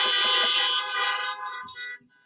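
Car horns honk in short overlapping blasts at a faith community assembly celebration, loud and steady before trailing off near the end, with no talk over them.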